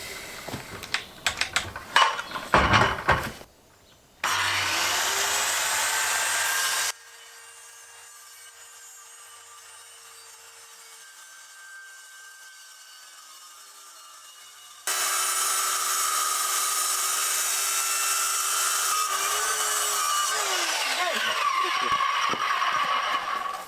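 A thick piece of wood is sawn in bursts of rasping strokes, with a quiet gap between the sawing spells.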